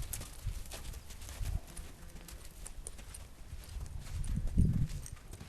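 A horse during ground work, with hooves clip-clopping and thudding on the ground in irregular steps, including a heavier stamp near the end, moderately close and with no clear speech.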